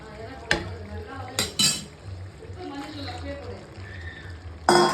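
Raw prawns tipped into a pan of half-cooked radish and tomato for a Tamil prawn kulambu, giving a few sharp metallic clanks and scrapes against the pan over a low simmering bed, with a voice talking.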